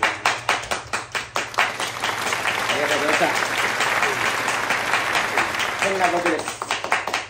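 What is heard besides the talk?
audience applause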